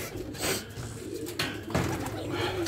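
Racing pigeons coo in a loft, with low, rolling calls repeating over a steady background hum, close and fairly loud, and no talk.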